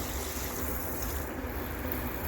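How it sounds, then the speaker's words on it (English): Water poured deep into a thrifted Goodwill garden pot while watering a plant, a close, continuous splashing rush at an even level for the whole stretch, alone with no talk. "See, I'm watering it deep enough."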